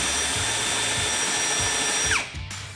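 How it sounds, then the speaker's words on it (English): A drill drives countersinking bits into 2x4 lumber for a router table build, running in steady whirring bursts up close before winding down near the end. "Now we countersink some screws"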